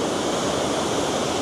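Water from Secret Falls near Sombrio Beach on Vancouver Island pours steadily in a dense, unbroken roar, loud and close, with no voices over it.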